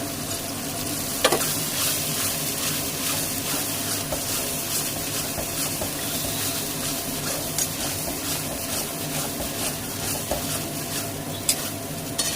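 Spices, ginger and onion fry in a pan of hot oil with bay leaf and dried red chillies for a chicken leg malai curry, giving a loud, steady, close sizzle throughout with a few sharp clinks of stirring.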